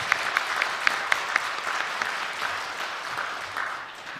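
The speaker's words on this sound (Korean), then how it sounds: "격려의 박수 한번 해줄까요?" A congregation claps for the church choir during a Sunday worship service, a few crisp close claps over a broad patter of hands that gradually tapers off.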